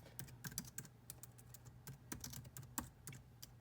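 Typing on the scissor-switch keyboard of a 2019 16-inch MacBook Pro: quick, crisp key clicks in irregular bursts, close and fairly quiet, with no talking.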